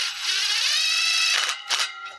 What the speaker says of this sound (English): just run your screws in there with, like I said, with your square drive bit